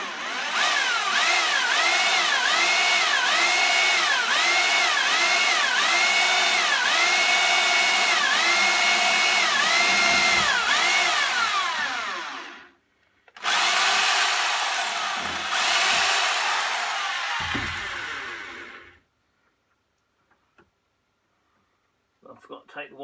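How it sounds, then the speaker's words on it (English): Power drill driving self-drilling screws into the steel of a narrowboat under construction, a loud whining motor with rhythmic pulses rising and falling, a brief pause, then a second run that winds down to quiet. "These are self-drilling, and they drill straight into the steel."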